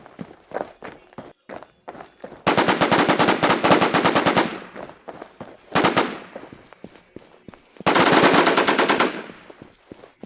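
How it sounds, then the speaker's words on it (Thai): Automatic weapon fire in the survival shooter Infestation: The NewZ: a few scattered single shots, then three loud rapid bursts lasting about one to two seconds each, close and dominant with little else around them. "เดี๋ยวเราจะยิงมันแล้วกัน"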